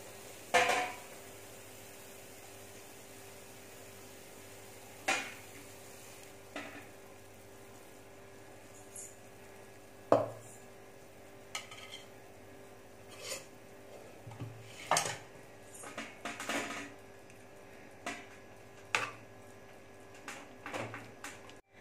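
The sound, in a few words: pouring jackfruit halwa from pan into a tray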